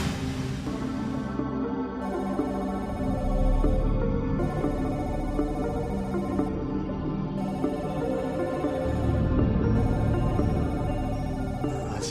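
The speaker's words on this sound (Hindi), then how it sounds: "आशी का फोन है।" A mobile phone rings with an incoming call, a melodic ringtone repeating in steady bursts of about two and a half seconds over a low background bed, fairly close and clear with no talking.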